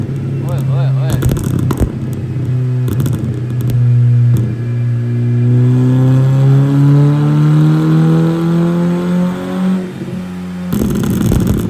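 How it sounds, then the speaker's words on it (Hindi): A tuned Nissan GT-R-style performance car with its limiter removed revs hard, the engine note climbing and falling, punctuated by sharp exhaust pops and bangs near the start and end, loud and close. "उसके अलावा गाड़ी के पॉप एंड बैंग हमने चालू कर दिए हैं।"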